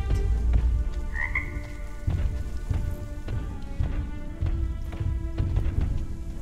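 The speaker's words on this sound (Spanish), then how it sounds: "Suena una rana, es una rana." Frog croaking in the video game RIME, repeated rhythmic croaks over a steady rain ambience, with a brief higher chirp early on.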